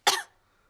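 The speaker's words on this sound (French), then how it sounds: "Mais regardez ce qui se passe quand je tousse." A cartoon character in Peppa Pig lets out one short, sharp cough close up, clearly audible and quickly fading to silence.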